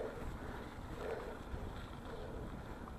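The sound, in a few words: strong wind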